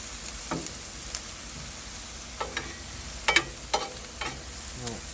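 Asparagus and mushrooms pushed around on a Blackstone flat-top griddle over fairly low heat, a faint steady sizzle broken by several short scraping clicks of a spatula spaced a second or so apart.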